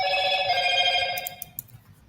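A new phone rings with a steady electronic tone for over a second, then cuts off, followed by a few sharp clicks or taps nearby.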